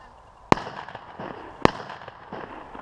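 Two sharp, loud shotgun blasts about a second apart ring out during an outdoor goose hunt, each followed by a short fading echo over faint background sound.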